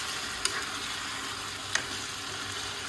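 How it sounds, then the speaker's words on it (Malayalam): A chicken stew with pepper powder is stirred in a frying pan over a steady sizzle, with two brief scraping clinks from the spoon at a moderate distance and no voices. "ഇതെല്ലാം കൂടെ നമുക്കൊന്ന് ഇളക്കി കൊടുക്കാം."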